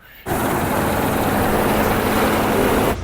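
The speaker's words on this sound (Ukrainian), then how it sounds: "Тракторець під'їжджає і до мене." A small tractor pulls up beside a grain truck during harvest in the Khmelnytskyi region, a steady loud engine drone close by that holds evenly for about three seconds, then cuts off.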